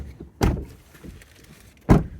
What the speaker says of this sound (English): I love the sound of deadened doors.